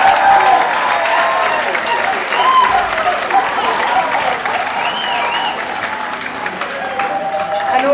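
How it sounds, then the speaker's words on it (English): A crowd at an awards evening applauds loudly and continuously, a thick wash of clapping with some cheering throughout, close and full. "give them a round of applause"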